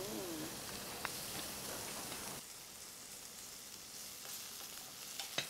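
Bacon strips frying in a thick-bottomed pan, a steady broadband sizzle that holds fairly loud for the first two seconds, then settles softer with a few sharp pops and crackles near the end.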